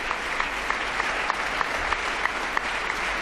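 Sustained applause fills the Spanish parliament chamber after the king's speech at the opening of the Cortes Generales, a large crowd clapping steadily with a few sharper individual claps standing out.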